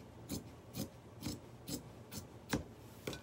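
Fabric is trimmed for a homemade fabric pumpkin in a series of seven short, crisp cutting strokes, close by and evenly spaced about half a second apart, with a faint room hush between them.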